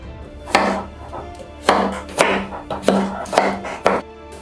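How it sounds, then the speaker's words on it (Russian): A kitchen knife chops a peeled pumpkin into smaller pieces on a board, giving about six sharp, distinct cuts spaced irregularly, close and clear with no talking. "берем нож и нарезаем тыкву на кусочки поменьше"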